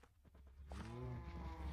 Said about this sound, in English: I'm just gonna go kill some of these people's cows.